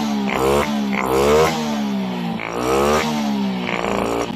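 A Suzuki Raider J 115 Fi motorcycle engine with a stalling, hard-starting fault runs loud and close after a restart, its revs swelling and dropping in repeated waves with a rough, buzzing tone.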